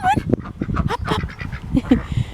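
Several ducks quack in quick, irregular bursts close by, with a person's voice mixed in among the calls.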